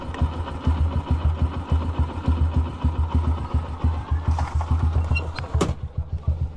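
A motorcycle engine runs close by with a steady, rhythmic throbbing pulse and low rumble, and a brief sharp knock near the end.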